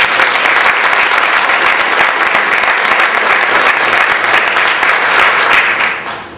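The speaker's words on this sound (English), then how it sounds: "I've asked you to join me in a round of applause for the DC Labor Film" Loud, dense applause from an audience at a labor film festival event, continuous clapping that fills the room and fades out at the end.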